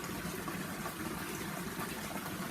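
Water pouring into an aquaponics grow bed in a geodome greenhouse, a steady close gushing and splashing, even and continuous through the brief moment.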